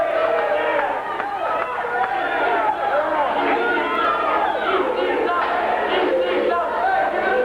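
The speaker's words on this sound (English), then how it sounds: "the crowd is loving it" A wrestling crowd in the bleachers at a hardcore match, a loud dense roar of cheering and shouting voices that continues without a break.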